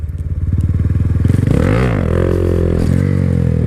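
A Honda Grom motorcycle engine revving hard during a wheelie, a loud close buzzing drone that pulses, then climbs and dips in pitch as the throttle is worked.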